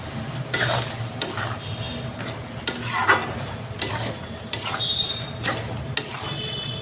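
Chopped tomato fries in a pan for a Bengali eggplant and fish-head dish, with a low sizzle broken by repeated scraping strokes of a spatula against the pan at a steady, unhurried pace.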